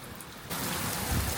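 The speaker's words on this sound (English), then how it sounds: "Rain, bruh." Heavy UK rain falls outside as a dense, steady hiss that grows abruptly louder partway through, with no voices.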